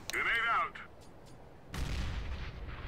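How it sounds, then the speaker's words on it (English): A grenade in Counter-Strike: Global Offensive goes off with a deep, rumbling boom that trails into a dull echo, following a brief burst of other game noise. "I'm gonna nade. Grenade out."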